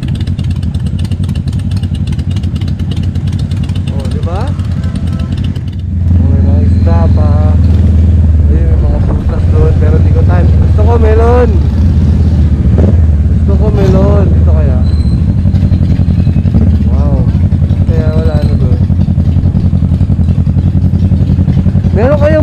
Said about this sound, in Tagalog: napakaingay talaga o, hayop na motor to.